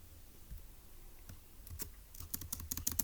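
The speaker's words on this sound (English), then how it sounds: "let's go ahead and type that up" Keystrokes on a computer keyboard: a few scattered taps, then a quicker burst of clicky typing toward the end, close and quiet, with no voices.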